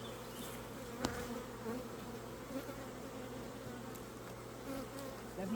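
Bees buzz steadily from an overcrowded hive during an inspection, a close, even drone with an occasional louder pass, and no talking.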